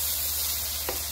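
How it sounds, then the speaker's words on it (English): Vegetables and beaten egg stir-fried together for ribeye steak fried rice, a steady sizzle running throughout with one brief scrape of the utensil near the end, close and alone. "Now blend your vegetables back in with the egg."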